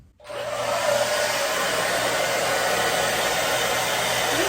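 A hair dryer switches on at its cool, low setting to dry a chicken, rising quickly into a loud, steady, close-up rushing whoosh that runs unbroken to the end.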